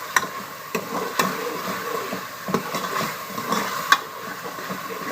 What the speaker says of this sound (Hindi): इसको अच्छे तरीके से भून लेंगे हम